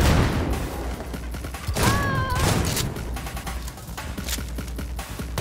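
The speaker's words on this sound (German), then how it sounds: "Ja, sie schießt, sie schießt" Enemy gunfire in Cyberpunk, repeated sharp shots and bursts crackling steadily through a noisy firefight, with a brief whining tone in the middle.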